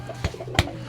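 Pigeons cooing close by, two soft low coos about a third of a second apart over a steady background hum, with no voices.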